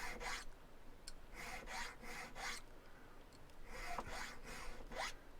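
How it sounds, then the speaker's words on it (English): A square file rasps against a silver pendant in repeated short strokes, each a dry scraping burst with brief pauses between, close and fairly quiet. "square file and begin removing material from the first cut"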